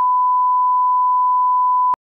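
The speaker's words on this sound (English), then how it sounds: "Beep 2 seconds. Beep long." A long CapCut beep sound effect: one steady pure electronic tone holding for about two seconds at a single pitch, then cutting off sharply with a small click.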